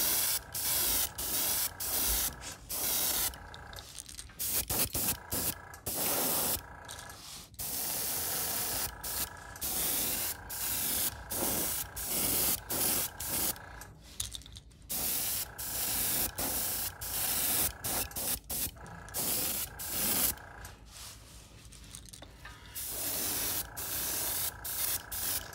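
An airbrush sprays a coat of yellow paint onto a fishing lure, a Toro KO style crankbait: a steady hiss that repeatedly starts and stops in short pulses, close and alone.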